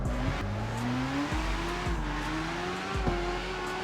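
In the CarX Street racing game, a car engine revs and shifts through gears with repeated rising pitch sweeps, while tires squeal and skid steadily underneath.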